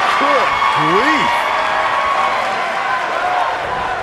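A capacity crowd at a wrestling match roars and applauds in a steady, dense wash of noise, with a voice briefly rising over it near the start.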